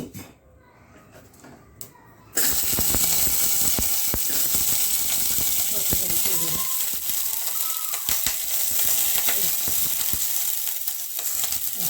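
Oil sizzles steadily in a pan, a sudden loud frying hiss that starts after a quiet moment and continues with scattered clicks and stirring taps, close and alone.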